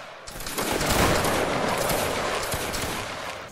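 A sustained, ragged musket volley from a line of soldiers in Roblox Waterloo, loud and dense, rolling on for several seconds as a crackling fusillade with no talk over it.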